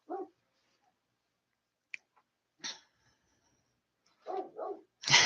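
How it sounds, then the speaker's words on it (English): An excited dog upstairs, giving a few short muffled barks and huffs separated by quiet gaps, faint and distant, ending with a sharper burst. "we have the dog upstairs, all excited about something"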